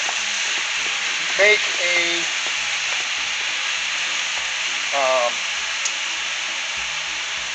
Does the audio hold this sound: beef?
yes